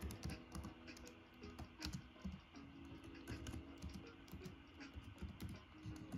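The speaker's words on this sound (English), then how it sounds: "Just type in Linky Box hates." Computer keyboard typing: soft, rapid, irregular key clicks running steadily throughout, fairly quiet and close, with no talking.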